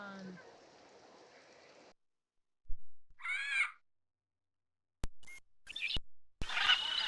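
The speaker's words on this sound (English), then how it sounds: "The parrots awoke to a sunny morning and the sound of squawks." Squawking parrot and macaw calls from the 3DO game It's a Bird's Life, several harsh bursts separated by silent gaps, heard after a stretch of steady rain-like noise.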